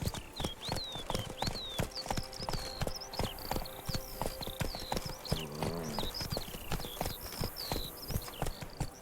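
Horse hooves clip-clop in a steady, unhurried rhythm close by, with birds chirping faintly in the background throughout.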